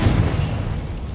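A Confringo blasting spell from Hogwarts Legacy goes off in a short, loud, low boom that decays quickly into rumble.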